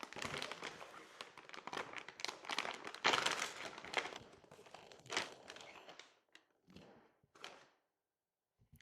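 Bursts of crinkling and rustling from a silvery plastic zip bag holding sneakers, close and fairly loud, thinning into a few short rustles before falling silent.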